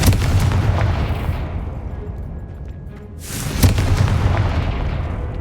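Confringo blasting spell going off in Hogwarts Legacy: two heavy, booming explosions a few seconds apart, each with a rumbling tail that fades before the next blast hits.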